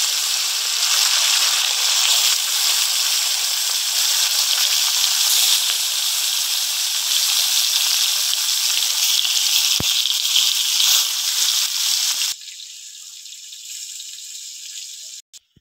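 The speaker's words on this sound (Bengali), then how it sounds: "এবার মাছগুলো ভেজে নেব।" Pomfret pieces frying in hot oil, a loud, dense, steady sizzle close by that runs unbroken for about twelve seconds, then drops abruptly to a quieter hiss before a couple of faint knocks at the end.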